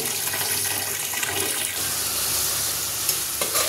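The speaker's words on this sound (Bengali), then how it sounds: "এই যে মাছটা লবণ দিয়ে ভিজিয়ে রেখেছি, এখন আবার একটু ভালো করে ওয়াশ করে নেব।" Salted snakehead fish being washed in water, a steady, fairly loud rush and splash of running water that continues without a break for a few seconds, with a faint clatter near the end.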